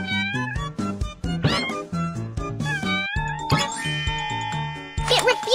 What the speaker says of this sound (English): It's dangerous for the kitten to hide under the car.